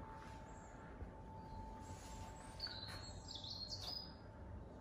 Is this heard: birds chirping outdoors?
yes